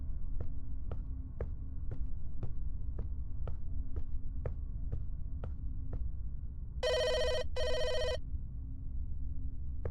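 A video game telephone rings in two short electronic bursts near the end, over a low hum and a regular pulsing throb of ticks.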